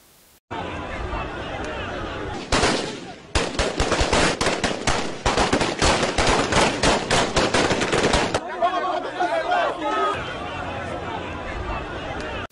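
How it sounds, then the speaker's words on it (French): Army gunfire at the population, with rapid bursts of automatic shots in quick succession, loud and close, mixed with crowd noise and voices. "L'armée a tiré à bout portant sur la population."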